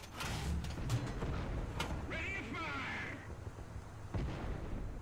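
Tank cannon fire from an IS-2 in the War Thunder video game: several sharp, booming shots and impacts over a steady mechanical engine rumble, with metallic ricochet ringing in between.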